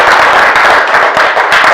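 An audience claps for animator and artist Matt Waruszynski, with steady, dense applause that stays loud and close for a couple of seconds and has no talk over it.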